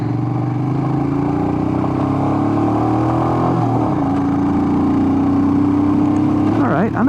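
A Royal Enfield Himalayan air-cooled single-cylinder motorcycle rides on a dirt trail in first gear, its engine droning steadily up close, with pitch shifts midway and a sharp rise near the end.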